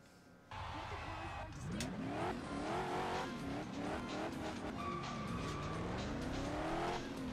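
Race cars in the Ford Racing 3 video game roar loudly and continuously, engines rising and falling in pitch through gear changes, with tire squeal and skidding mixed in as the pack races around the track.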